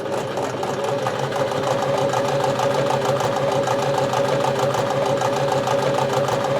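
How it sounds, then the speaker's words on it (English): Sewing machine stitching down a seam edge on a fabric mask, running steadily at a fast, even stitching rhythm, close and continuous, with no talking. "we're just going to run down this and learn how to use the sewing machine"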